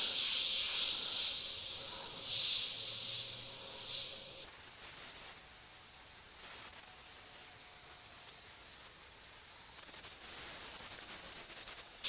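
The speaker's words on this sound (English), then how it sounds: "I'm going back and forth with the airbrush and moving that trigger finger" Airbrush spraying black paint for drop shadows on a grim reaper design, a close, bright hiss for about four seconds with short pulses as the trigger moves, then fading to a faint background hiss.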